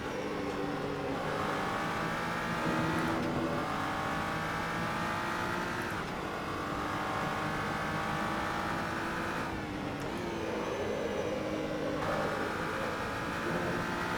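A GT3 race car engine in the Assetto Corsa racing game on the Spa circuit, loud and constant, rising through the revs with a sharp drop at each gear shift, heard alone with no talk.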